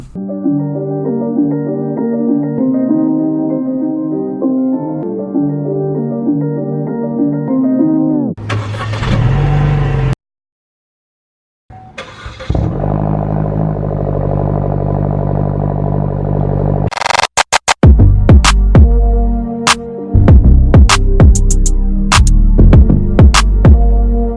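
Car engine heard in cinematic driving footage: a steady droning hum and throb at first, then a short silence, then a different engine drone and sharp clicks and revs toward the end, loud with no talking.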